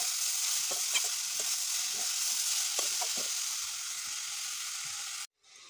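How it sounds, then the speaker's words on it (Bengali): Papaya pieces sizzle and fry steadily in a pan, with soft scraping stir strokes scattered through the hiss before the sound cuts off abruptly near the end. "পেঁপেগুলো দিয়ে দিচ্ছি, নাড়াচাড়া করে।"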